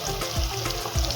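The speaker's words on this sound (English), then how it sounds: "I'll allow it to fry a little." Ingredients for Nigerian vegetable yam porridge fry in a pot, a steady close sizzle with low thuds and stirring scrapes recurring every half second or so.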